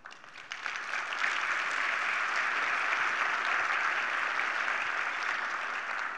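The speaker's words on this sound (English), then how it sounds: "Thank you for that applause." Sustained applause from the audience at a business partnership's annual meeting, dense and steady clapping that swells in the first second and holds evenly throughout with no voices.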